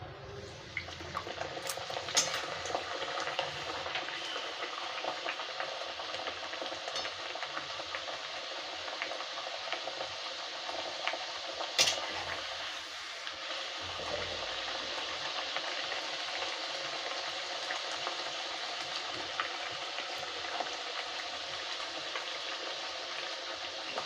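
Sweet puri frying in hot oil makes a soft, steady sizzle with faint bubbling and occasional light stirring, heard up close but at fairly low volume throughout.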